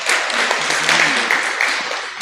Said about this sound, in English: Give a hearty clap for that.